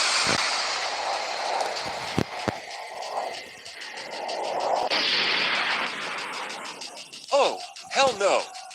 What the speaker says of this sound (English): Launch the missile.